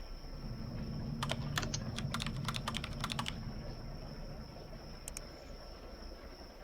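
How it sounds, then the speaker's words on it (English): Quick, light keystrokes patter on a computer keyboard in a short burst, then a couple of final taps, faint and close over a steady electrical hum. "I suck at typing."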